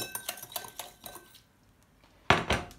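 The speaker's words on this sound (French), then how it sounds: "On mélange et on met tout ça dans un saladier." A metal spoon clinks repeatedly against a bowl while vodka and sugar syrup are stirred together for a salad bowl, a run of quick taps, a short pause, then a louder clatter close by.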